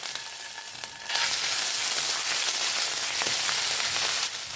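Grated ginger and chopped green chilies fry in a pan over lowered heat, giving a loud, dense sizzle that swells sharply after a second and holds steady, close up and with no voices.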